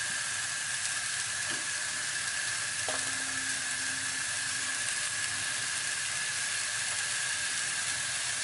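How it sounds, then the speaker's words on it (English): Meatballs sear in their own fat in a pan, giving a steady, quiet, continuous sizzle and crackle with a faint brief clink partway through. "which is going to give it a nice sear on the meatballs anyway"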